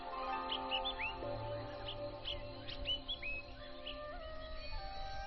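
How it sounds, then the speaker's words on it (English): Faint birds chirping in the distance on a mountain at morning, scattered short tweets and whistles over a steady quiet background hum. "the birds chirping in the distance"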